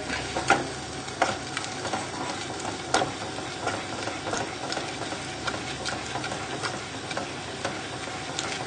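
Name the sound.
stirring onion gravy with stock in a pan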